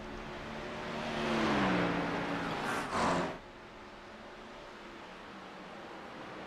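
GT3 race cars on track in the iRacing video game, with a faint engine whine swelling and rising in pitch as a car passes, then fading to a steady low hiss.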